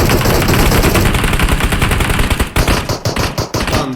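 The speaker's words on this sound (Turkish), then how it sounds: "Bir el silah, el silah" Loud automatic gunfire rattles in rapid sustained bursts during a multiplayer shooter match fought inside a multi-storey building, the fire breaking into shorter choppy volleys toward the end.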